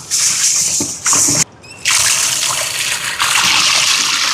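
Pieces of stingray fish being washed and turned by hand in a basin of water for a Jaffna-style curry: steady close splashing and sloshing with a brief pause midway.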